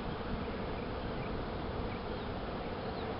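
Honeybees buzz steadily and densely at close range while feeding on sugar water from a hand, a continuous unbroken drone with no pauses.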